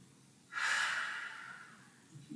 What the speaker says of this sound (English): And breathe.